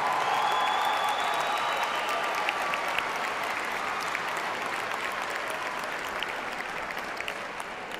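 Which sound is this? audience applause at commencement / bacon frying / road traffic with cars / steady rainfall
audience applause at commencement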